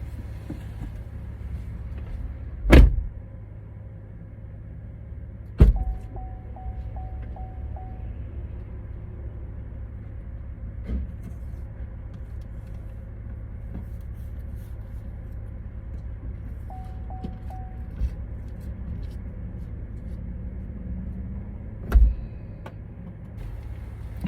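Cars sit in a donation drop-off parking lot, a low steady idling rumble running throughout with a few sharp thuds like doors shutting spread across it, and no talking.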